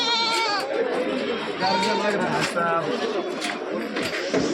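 Kathiawadi goats bleating at a busy livestock market, several wavering bleats rising over constant crowd chatter and nearby talk.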